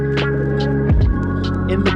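An instrument plugin imitates a picked electric bass, playing slow, long sustained low notes. One note change slides down midway, loud and steady, with no voices.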